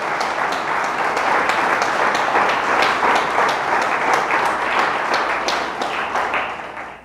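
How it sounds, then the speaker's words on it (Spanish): A church congregation claps loudly and continuously during a Spanish-language Christmas service, a dense wash of hands with sharp individual claps standing out, fading only in the final moment. "Dele fuerte el aplauso a Jesús,"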